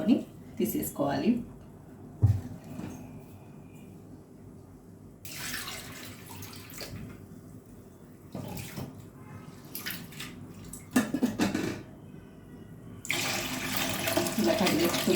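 Tap water runs in bursts over split moong dal being washed in a bowl, with gushing spells between quieter gaps and someone talking through it.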